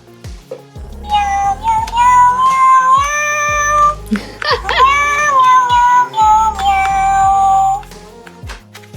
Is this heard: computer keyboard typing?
no